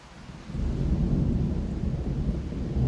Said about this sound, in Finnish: Kaksikin salamaa tuli.